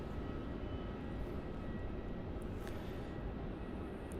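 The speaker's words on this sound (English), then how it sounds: "And now departing off runway 34" A departing airliner at Melbourne Airport rolls off runway 34, giving a steady, broad engine roar that holds at an even, fairly strong level throughout without any voices.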